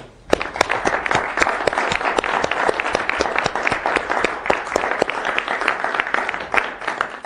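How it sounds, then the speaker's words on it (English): Applause from an audience at an architecture studio lecture review, dense and continuous hand clapping with distinct sharp claps standing out, steady in level from start to finish. "So I'm just asking if the members who have reviewed today would join me in applauding"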